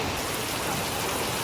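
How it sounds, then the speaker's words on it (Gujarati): Steady rain falling outdoors, a dense even hiss of drops with no distinct rhythm, moderately loud and alone with no voices. "જુઓ વરસાદ પડે છે"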